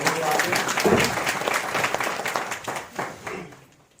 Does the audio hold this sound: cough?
no